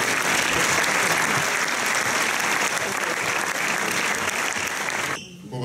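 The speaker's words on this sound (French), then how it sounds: "Merci, on les applaudit fort." Dense, sustained applause from a large cinema audience, loud and continuous, cutting off abruptly near the end.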